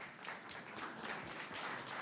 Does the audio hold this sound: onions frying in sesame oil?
no